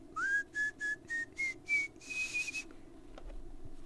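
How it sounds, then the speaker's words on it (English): A person whistles through the teeth, forming the tongue into a cave against the roof of the mouth: about eight short, clear pitched pulses that slide slightly upward, then fade into quiet room tone. "Sort of like a whistle through the teeth."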